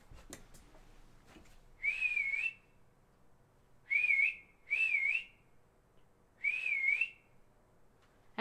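A person whistles in four short, warbling bursts separated by pauses, clear and fairly close in a quiet room.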